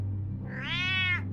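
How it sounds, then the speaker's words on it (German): A cat meows once in Batman: The Telltale Series, a drawn-out, rising-and-falling cry set against a steady low game hum, with no talking. "Alter, die Katze."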